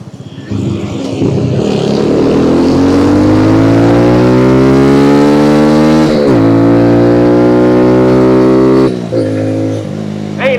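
A Kawasaki Z125 motorcycle with modified setup revs hard and loud, its engine pitch climbing steadily for several seconds, dipping briefly, then holding high before dropping off near the end.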